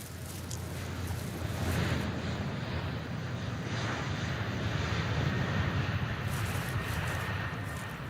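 Airplanes at an airport produce a continuous loud, broad engine roar, steady and rumbling throughout with no speech.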